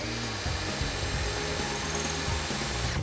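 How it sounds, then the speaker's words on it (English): Drill guided by a drill jig boring drainage holes in the lower outer frame of an aluminium window, a loud continuous whine with pulsing low rumble, close and unbroken throughout. "With a drill jig, we drill the holes for drainage in the lower outer frame"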